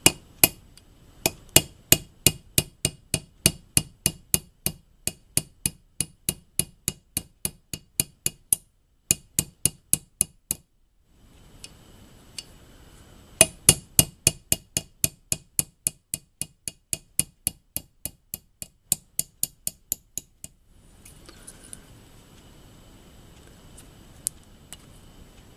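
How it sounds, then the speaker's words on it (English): Hammer blows on a metal punch driving out a split pin, sharp ringing strikes in fast regular bursts with brief pauses between series, close and loud. "figure out how to get that split pin out of there. I think I got the right punch here"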